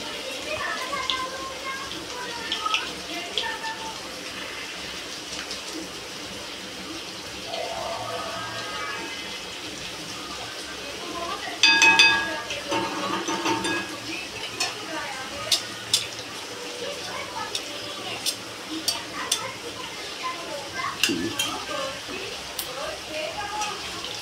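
Medu vada made from semolina fry in hot oil over a high gas flame, giving a soft continuous sizzle and bubbling, with a few utensil clinks and scrapes partway through.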